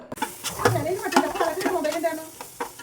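Chicken with turmeric and chili powder being stirred in a pan, with a close sizzle and steady scraping strokes of a spoon across the pan throughout.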